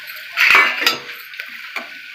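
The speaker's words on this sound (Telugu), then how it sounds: "ఆయిల్ బాగా హీట్ ఎక్కింది. ఇగో కందిపప్పు వేసుకుంటున్నా." Toor dal tipped into a pan of hot oil on a kitchen stove, giving a short close clatter and rattle of lentils against metal followed by a faint brief sizzle, then a few light taps.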